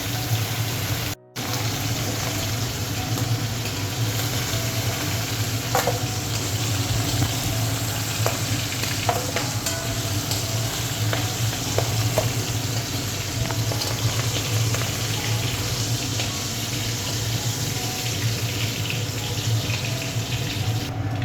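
Tengra fish frying lightly in a kadai, a steady dense sizzle with scattered pops and crackles running unbroken throughout, fairly close, with no talking.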